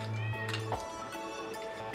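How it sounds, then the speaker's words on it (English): Cat meowing in a home where a dry mix is being poured into bowls for homemade bath jelly, a few short mews over steady background hum. "you guys might hear our kitty meowing in the background"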